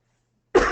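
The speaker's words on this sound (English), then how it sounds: "Recording something like my cough that I have right now is nice." A single short, sharp cough bursts out after a brief silence, close and loud.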